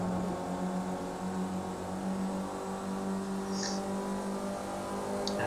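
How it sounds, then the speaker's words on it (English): Race car in a racing video game accelerating up toward Blanchimont at Spa-Francorchamps in wet conditions, a steady droning engine tone held at a constant level beneath faint commentary. "Carrie now accelerating up towards Blanchimont."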